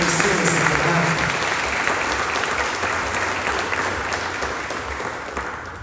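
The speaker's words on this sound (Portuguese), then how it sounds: "Você pode uma linda salva de palmas a Jesus?" Congregation in a church service applauding steadily, a dense, loud wash of clapping that holds for several seconds and slowly tapers off, with a few voices mixed into the crowd.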